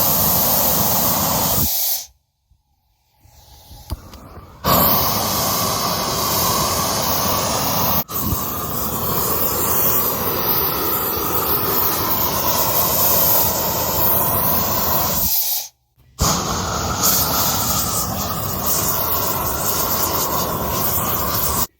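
A flamethrower bought on Amazon fires in long, loud hissing, rushing bursts, broken by brief gaps of near silence between blasts.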